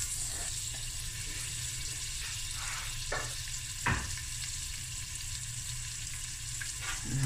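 Chopped onion frying in a pot for a sardine and mussel akhni, a soft, steady sizzle at low volume with a few brief clicks and stirs.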